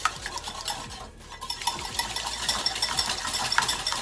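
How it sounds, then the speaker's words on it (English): Eggs are whisked briskly in a bowl for keto chia cookies, a fast continuous clatter of the whisk against the sides, close and steady with a brief pause partway through. "So you want to whisk eggs one at a time."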